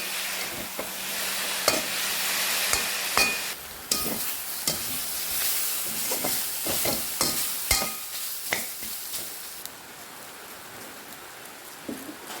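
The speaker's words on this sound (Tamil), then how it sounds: "நன்றாக மிக்ஸ் பண்ணுவோம்." Chickpea sundal being stirred and mixed in a pan, a steady sizzling hiss broken by scraping clicks of the spoon against the pan.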